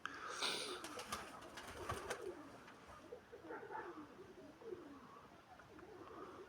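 Soft, low pigeon coos from a pigeon 72 years old repeat a few times amid faint background noise and rustling, quiet and somewhat distant, in the evening.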